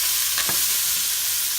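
Onions stirred into a pan of sausage and potato stew, a short scrape-and-sizzle burst over steady broadband frying hiss, close and fairly loud, no voices.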